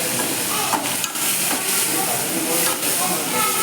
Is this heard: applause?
no